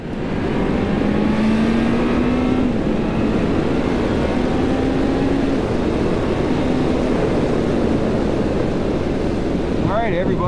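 A 2011 Honda CB1000R with stock exhaust and Dunlop Mutant tyres ridden on a brisk fall day, steady engine drone shifting pitch through gear changes beneath heavy, constant wind roar.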